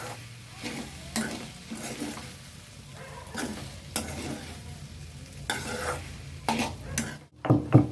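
Okra sautéing in a pan while being stirred, a steady soft sizzle under repeated scraping strokes of a spoon against the pan, with a louder clatter near the end.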